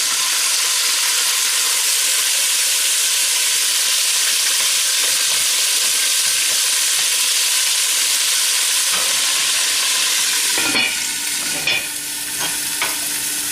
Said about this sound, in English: So that pan is hot enough now, so we're going to go ahead and get our beef in there. We're going to brown that off really well.